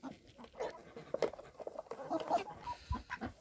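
About ten laying hens cluck softly and intermittently at a distance, with scattered short calls and faint background noise.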